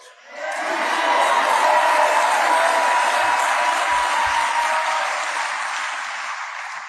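A rally crowd in Kalamazoo, Michigan, cheers and applauds Bernie Sanders, a dense roar that swells quickly, holds loud and steady, then eases slightly toward the end.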